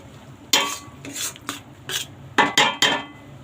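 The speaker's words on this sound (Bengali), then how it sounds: "এবার সব উপকরণগুলোকে ভালোভাবে নেড়েচেড়ে নেব" Spices and keema being stirred and scraped in a pan for Bengali keema ghugni (mangsher ghugni), with a series of close, loud clattering strokes of a spoon against the metal, coming in irregular bursts without any talk.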